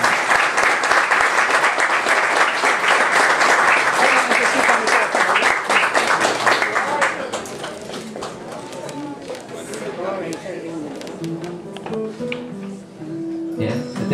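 Audience applause for a saxophonist at a jazz concert in a popular museum, loud dense clapping for about seven seconds that then thins out to scattered claps beneath chatter and a faint melodic line.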